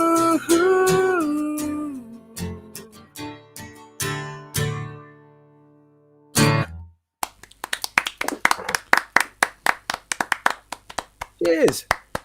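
An audience claps at a live radio show, first a few scattered claps under singing and music, then a run of sharp, rhythmic handclaps toward the end. A voice is heard near the close.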